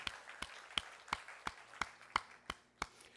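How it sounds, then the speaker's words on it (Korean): Sparse, slow claps ring out one at a time at an even beat during a Korean Sunday morning church service, each sharp and reverberant against a quiet room. "다시 한번 하나님께 영광의 박수 올려드립니다"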